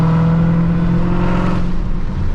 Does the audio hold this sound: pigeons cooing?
no